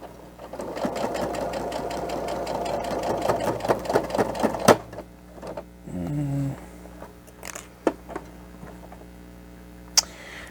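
A sewing machine runs a zigzag stitch along a cloth face mask in one steady, rattling burst for several seconds, then stops, leaving a brief hum and a few scattered clicks and taps.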